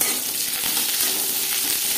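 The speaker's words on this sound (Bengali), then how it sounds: "পেঁয়াজ ভেজে নেব" Onions fry in two spoons of refined oil in a pan for a capsicum dish, producing a dense, loud, continuous sizzle up close with faint stirring.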